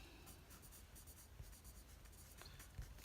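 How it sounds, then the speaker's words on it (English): Pen scratching steadily across paper in a quiet room, a run of short strokes and taps repeating at close range while numbers are jotted down for a monthly budget. "I'm going to write it here"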